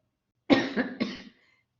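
A single harsh cough, split into two quick bursts, close and fairly loud, then silence.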